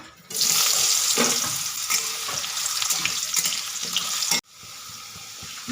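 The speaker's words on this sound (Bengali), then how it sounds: "আমি সমস্ত সবজিগুলোকে ভেজে নেব দিয়ে দেবো আলু" Potatoes and mixed vegetables dropped into hot oil with cumin and dried chili give a loud, dense sizzling hiss that cuts off sharply near the end, then resumes more quietly.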